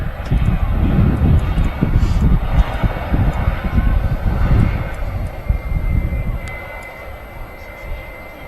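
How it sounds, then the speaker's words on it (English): An EasyJet Airbus A320neo takes off from Manchester Airport with a loud, rumbling engine roar that peaks early and slowly fades, wind buffeting the microphone. "Meanwhile, we got EasyJet Flight 21883 off to Nice in France. It's an A320 Neo."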